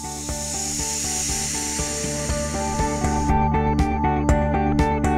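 Nitrogen vents from a Compress 3000 AWS air-to-water heat pump installation as a steady, loud hiss, and sharp clicks and taps appear over it toward the end.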